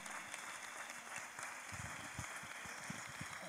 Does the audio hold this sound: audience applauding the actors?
yes